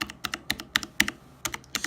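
Creative Labs Sound BlasterX mechanical keyboard keys clacking in quick irregular bursts, close and crisp, with brief pauses between clusters of presses.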